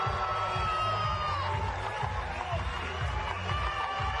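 Brazilian fans in the stands go wild after the women's beach handball final against Argentina at the World Games 2017, sustained loud crowd cheering and whooping with a commentator speaking over it.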